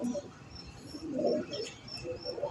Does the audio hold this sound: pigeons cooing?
yes